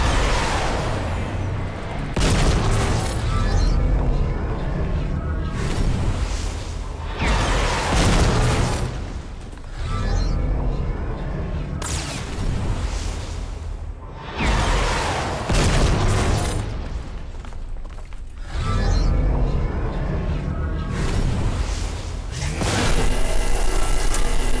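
Bomb blasts in the Fortnite video game: a series of heavy, loud booming explosions, roughly six of them spaced a few seconds apart, each followed by a crackling decay.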